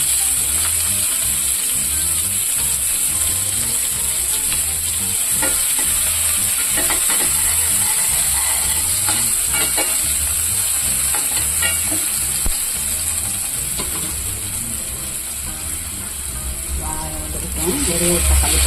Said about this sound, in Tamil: கொஞ்சமாக வெங்காயம் போட்டுக்கலாம்.